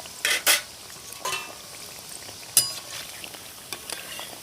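Homemade cookies fry in a pan with a soft, low sizzle, broken by a few sharp scrapes and clinks of a utensil against the pan, loudest near the start.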